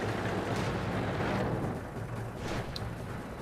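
Tank cannon fire and battle rumble in World of Tanks, with dense low booms and explosive bursts running continuously, loud and close, easing slightly after the first half.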